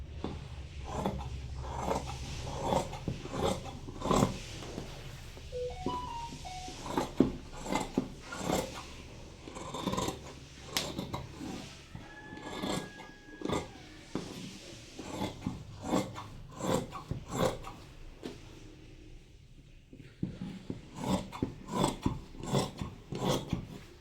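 Fabric being cut for a pair of women's loose pants, with repeated rasping snips and scraping strokes in an uneven rhythm, close and fairly quiet, with no talking.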